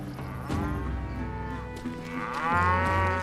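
Cattle in the Western shooter game Call of Juarez Gunslinger let out two long, low moos, one early and one near the end, clear and close with no talking.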